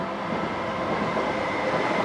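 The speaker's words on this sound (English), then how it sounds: "we're like literally the train track is over there" A train passing on a nearby railway track beside a flat, a continuous loud rumbling roar with faint wheel clatter and no talking.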